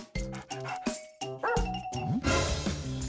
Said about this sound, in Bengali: একটা ডগ